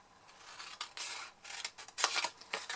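Scissors snipping through a paper milk carton, a handful of close, crisp cuts with short pauses between, quiet and without talking.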